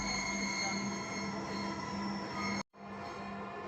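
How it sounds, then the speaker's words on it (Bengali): A Dhaka metro rail train runs at speed, its wheels squealing over a steady broadband rumble with a sustained high whine, briefly cut by a sudden dropout before the running noise resumes. "ট্রেন ছুটে যাচ্ছে তার আপন গতিতে।"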